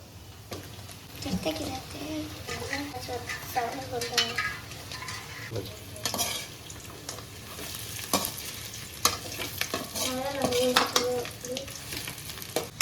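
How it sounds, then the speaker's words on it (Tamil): Fried chicken pieces and sliced ginger are stir-fried for homemade lemon chicken, with a steady sizzle and repeated scraping and clattering stirs, while a voice talks intermittently over the cooking. "இப்போ ஸ்லைஸ் பண்ண இஞ்சி சேர்த்துக்கலாம் ஃப்ரை பண்ண சிக்கனை போட்டுக்கணும்"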